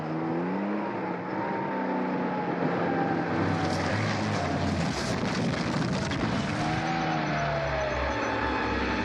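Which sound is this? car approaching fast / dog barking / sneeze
car approaching fast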